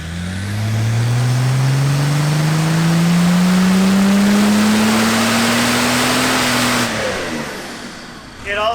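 Car engine held under load on a dynamometer, a loud steady climbing drone building for about seven seconds before cutting off abruptly and dropping to a lower idle.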